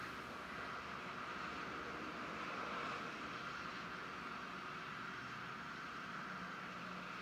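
Old Sikorsky helicopter flying over the Smoky Mountains near Pigeon Forge, Tennessee, heard as a steady, broadband engine and rotor drone that stays loud and even throughout, with no talk.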